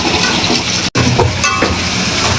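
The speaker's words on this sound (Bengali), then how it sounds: "এখন এগুলোকে একটু কষিয়ে নেব।" Malabar spinach greens stir-fry in a hot pan with a loud, steady sizzle and hiss, broken by a brief cut of silence near the start before the frying continues.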